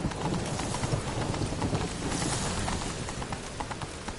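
Geralt's horse Roach gallops in The Witcher 3 on PS4, a steady, close clip-clop of hooves that runs without a break under a dense layer of ambient game sound.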